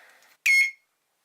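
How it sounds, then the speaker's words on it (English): A single loud beep from an electronic bicycle horn, a short harmonic tone lasting about a third of a second, sounding close and alone after faint background murmur. "the electronic horn"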